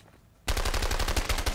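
Submachine gun fire in the video game A Way Out: after a brief quiet moment, loud rapid automatic bursts rattle on steadily and close up until the end.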